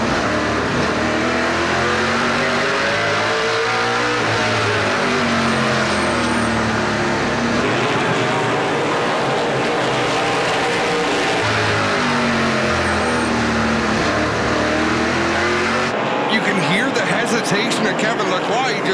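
NASCAR Pinty's Series stock cars race at Autodrome Chaudière in the Budweiser 300, loud engines revving and swelling as the cars pass close by. Race commentary runs over the engines, and the sound cuts abruptly near the end.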